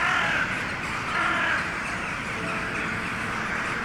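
Ravens cawing in the video game Strange Antiquities: a dense flock of harsh, overlapping caws and cries, loud and continuous, without a break.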